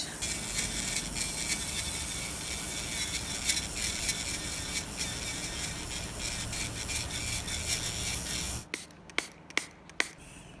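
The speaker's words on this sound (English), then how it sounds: "I'm going to swap my drill bit, and I'm gonna swap it for this one" Continuous high whirring and rasping of an electric nail drill filing a nail during a fiberglass nail extension, steady for most of the clip, then stopping, followed by a few sharp taps.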